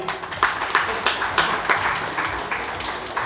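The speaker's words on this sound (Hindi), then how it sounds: "एक बार जोरदार तालियां" The audience at a real-estate sales seminar for the Ambika City housing project breaks into loud clapping, a thick, continuous patter of many hands that carries on for several seconds.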